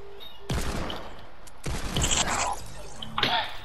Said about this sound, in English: That's his pistol.